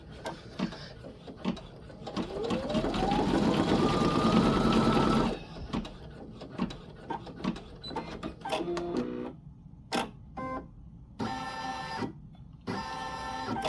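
Baby Lock Flare embroidery machine stitching an in-the-hoop dog poop bag dispenser, a long rising whir of rapid needle strokes, then pauses and short bursts of stitching close up.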